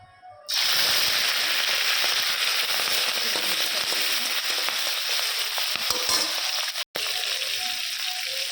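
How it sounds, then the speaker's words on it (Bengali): Spices hit hot oil for a tempering before prawns: a sudden loud burst of crackling and spitting that holds as a dense, steady sizzle, broken by one brief pause near the end. "হোক তেল ফোড়নটা"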